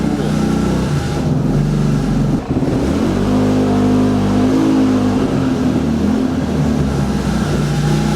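Buggy engine fires up instantly and revs hard, a loud mid-pitched motor rising and falling through several throttle blips after a brief dip at the start.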